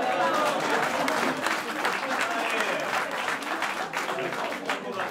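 Sustained applause from an audience at the 20th Serado Prouvençalo, dense steady clapping filling the whole stretch with crowd noise mixed in.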